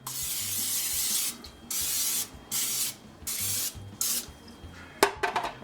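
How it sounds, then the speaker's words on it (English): Several short hissing bursts of cooking spray into a West Bend crock pot come in a broken rhythm, each lasting about half a second, followed by a few clanks at the end. "I always just take and put a little spray in there"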